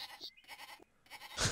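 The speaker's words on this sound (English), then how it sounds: "I am going to just kill a sheep before I leave this map" Sheep bleats from the Sega CD strategy game PowerMonger as an army kills a sheep, short nasal cries at moderate level, with a louder burst at the end and no talk.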